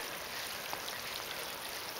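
Steady rush of water from a hose spraying down a backyard slip and slide, a continuous close hiss with no pauses.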